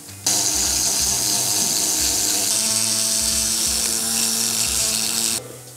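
A milling cutter machines a prototype 244 cc motorcycle cylinder through a clamped template, giving a loud, close, continuous high-pitched grinding whir with a pulsing low rumble that starts abruptly and stops after about five seconds, with no voices.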